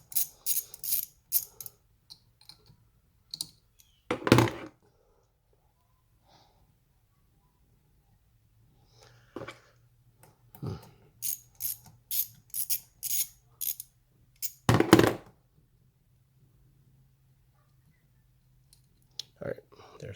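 Screws being removed with a ratchet while working on a Vsport and its blow-off valve: close bursts of rapid clicking with pauses between them and a voice in the gaps.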